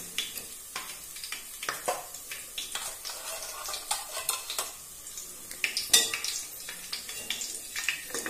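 Fried cauliflower, Kerala street-stall style, being scooped from hot oil into a dish, with quick metallic scrapes and clinks over a faint background sizzle, no talking.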